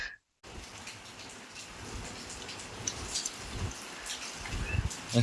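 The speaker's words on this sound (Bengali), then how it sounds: "বর্ষাকালে তো এরকমই বৃষ্টি হলে পরে মজা" Monsoon rain falling steadily outdoors on a street with waterlogged drains, a continuous patter with scattered drips and splashes, starting after a brief silent gap.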